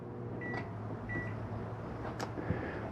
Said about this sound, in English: Self-explanatory working microwave.